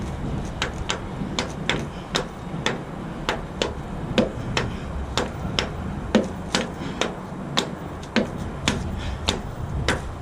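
Sharp, regular taps repeat about twice a second over a quiet background, a steady series of wooden hammer strikes seating a bearing during a trailer wheel hub rebuild, with no voices.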